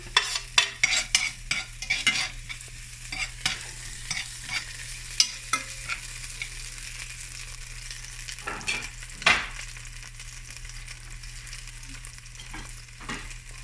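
Shallot fries in duck fat with a continuous crackling sizzle as a utensil repeatedly scrapes and clacks against the pan, quick bursts of stirring early on, then sparser strokes, close and alone.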